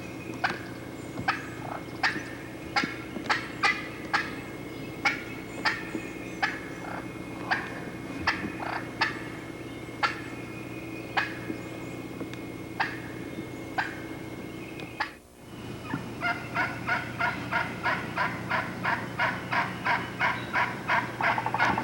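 Wild turkey hen giving a springtime kee-kee with rasp and rhythm, a long series of sharp, evenly spaced calls outdoors, briefly interrupted before a faster run of calls resumes.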